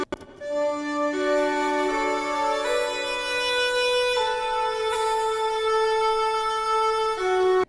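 Sustained orchestral woodwind lines play a slow melody, with voices moving in contrary motion and layered tones shifting together, no talking.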